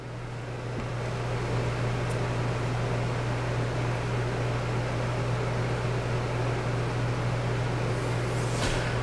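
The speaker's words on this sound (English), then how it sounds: "the air conditioner's right there, now that it's all coming through the ducts, it's much quieter" An RV rooftop air conditioner fitted with a Wacko duct silencer runs steadily, a smooth broadband whoosh of airflow over a constant low hum, with no talk over it.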